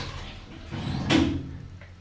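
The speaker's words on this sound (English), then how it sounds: "Doors closing." Orona lift doors slide shut inside a town hall, a soft rising whoosh that ends in a brief muffled thud, heard close and alone.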